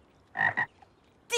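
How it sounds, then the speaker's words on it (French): Cartoon frogs croak in short bursts, two quick croaks close together followed by a third after a pause, loud and clear against a quiet background. "Oh, toutes les grenouilles."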